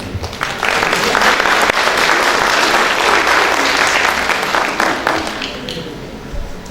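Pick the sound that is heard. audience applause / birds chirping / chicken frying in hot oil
audience applause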